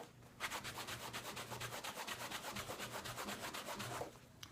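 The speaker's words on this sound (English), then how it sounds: "We're just gonna work it out, circular motions. You can scrub up and down." Steady scrubbing on a stained Coach leather purse, a close rhythmic rubbing with quick repeated strokes that runs nearly unbroken, alone with no talk.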